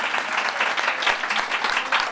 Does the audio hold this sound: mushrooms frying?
no